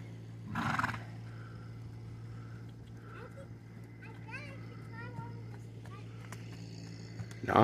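A horse doing trick riding gives a loud whinny early on, followed by faint hoof clip-clops under a steady background hum, with children's voices heard in the distance and a burst of noise at the end.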